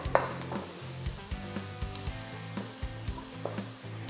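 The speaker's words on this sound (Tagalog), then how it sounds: "Pabayaan natin na maluto yung bawang habang umiinit yung mantika." Garlic frying in heating cooking oil gives a soft continuous sizzle, punctuated by regular rhythmic scraping or stirring taps roughly every half second, faint and close.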